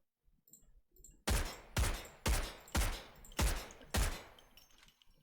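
Six loud SP5 rifle shots fire in steady succession on a firing range in the video game Delta Force, each a sharp close crack with a short decaying tail, preceded by faint clicks and no talking.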